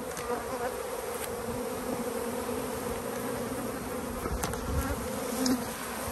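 Honeybees buzz densely around a spring beehive, a steady close drone with occasional individual bees passing nearer.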